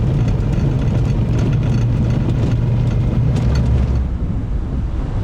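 A rare car rumbles with a low, steady engine drone while driving through Short Covered Bridge, heard up close and continuous, with road noise and a slight drop in tone near the end.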